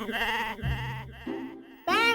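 A person imitating a goat's bleat with the voice, several wavering, quavering bleats in a row, close and loud, with no other talk.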